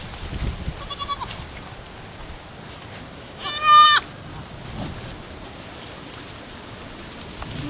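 Newborn goat kids bleat for their mother in two short, quavering calls, a faint one early and a louder, nearer one midway, over a steady background hiss.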